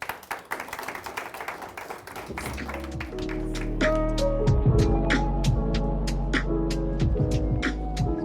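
An audience claps in a hall, with scattered taps thickening into steady applause. A low electrical hum comes in and sits under the clapping until the end.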